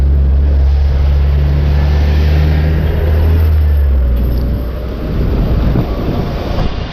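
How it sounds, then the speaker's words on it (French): A heavy truck rumbles past on a city street, its deep engine drone loud and close at first, then easing off as it moves away. "On va laisser passer le camion"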